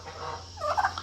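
A large bird gobbling like a turkey, a short faint call with a couple of quick pulses near the end over low background hum.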